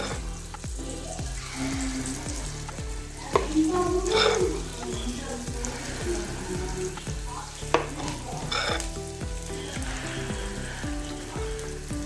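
Unniappam batter, a Kerala banana appam, poured into hot oil in an appam pan, frying with a loud continuous sizzle and bubbling, plus a couple of sharp clinks from a utensil.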